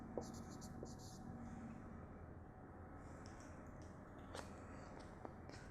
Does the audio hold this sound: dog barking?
no